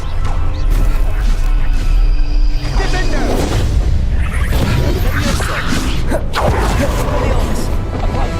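Fiery Incendio spell blasts in a Harry Potter video game, loud whooshing bursts and crashing booms layered over dense battle noise and a voice, with a big impact near the middle.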